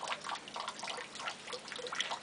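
Kitten drinking from a running tap, with a thin, faint stream of water trickling and spattering steadily and a few soft drips.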